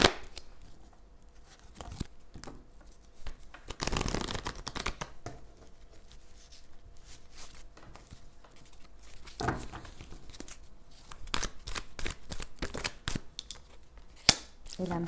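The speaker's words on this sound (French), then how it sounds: "Je prends une carte de l'améthyste." Tarot cards drawn from a deck: soft scattered rustles, slides and light taps of card stock handled up close, quiet and irregular, with a brief louder shuffle burst partway through.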